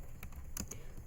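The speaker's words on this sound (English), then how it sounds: "So here I would be typing the title as" Someone types on a computer keyboard, producing a few quiet, irregular key clicks over a soft steady background hum, with no talk.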